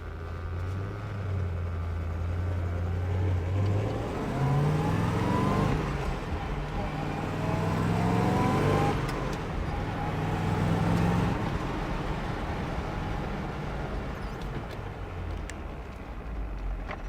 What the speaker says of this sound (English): Quiet sounding exhaust.